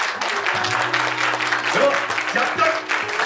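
Applause from an audience at a trailer launch event for a short film, a steady wash of clapping filling the room throughout, with a low sustained tone and faint voices underneath.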